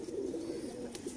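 Salara teddy pigeons give a low, steady cooing that runs unbroken through a brief moment, soft and close, with no voices.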